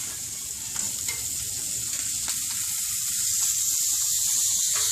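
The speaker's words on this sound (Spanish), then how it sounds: "Acá se están cocinando las salchichas para futuros guaraches." Sausages sizzle and fry on a griddle at a Mexican street food stand selling tacos, burgers and hot dogs, a steady loud hiss with a few scraping clicks and no talk.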